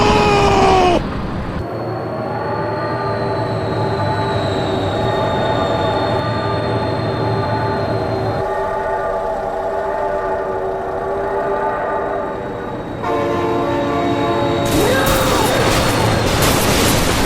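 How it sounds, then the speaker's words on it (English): A train rumbles past with a long sustained horn blaring in the driving game BeamNG.drive, loud and close, the horn tone shifting as it passes and a second horn blast at the end. "Oh my god, train!"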